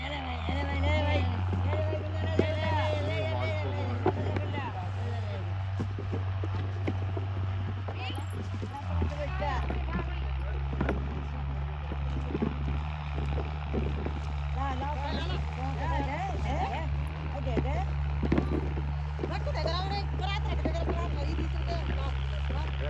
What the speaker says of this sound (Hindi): देखो भाई इधर अर्जुन ट्रैक्टर भाई कितने जोर लगा रहा है